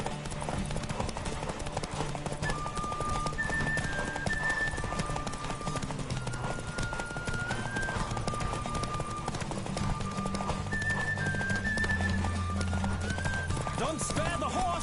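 Hooves clip-clop rapidly in a steady galloping rhythm under music and game sounds in The Witcher video game, with a horse whinnying at moments and a voice speaking.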